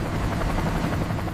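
A helicopter rated for 8 tons lifts a Rolls-Royce Silver Ghost, still encased in lava, out of a volcano, its rotor and engine roaring loudly and steadily at close range.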